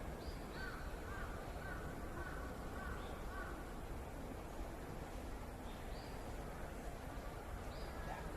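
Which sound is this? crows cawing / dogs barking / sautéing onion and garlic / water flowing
crows cawing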